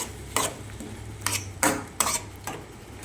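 A prawn curry made with biuli dal is stirred in a pan, with four or five distinct scraping clinks of a spoon against the metal over a low background hum.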